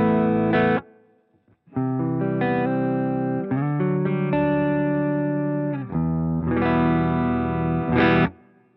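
Electric guitar played through a Boss GT-1000 Core with distortion and a room reverb setting, sustained chords and notes ringing out with a roomy reverb tail, loud and close, no voices.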